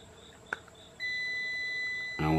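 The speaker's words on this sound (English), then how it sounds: "once you turn it on, you should hear that buzzer" A buzzer sounds when the key is turned on in a simple key switch test, holding one steady, clear tone for about a second. A click comes before it and a voice starts speaking near the end.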